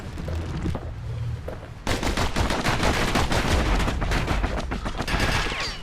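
Rapid gunfire from dual pistols in the video game Bastion, a dense stream of sharp shots starting after a quiet lead-in with low music, loud and continuous with brief swells for the rest of the stretch.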